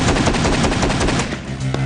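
An AA-12 shotgun fires fully automatic in a rapid, continuous string of loud close blasts for nearly two seconds, the shots running together before a final separated report.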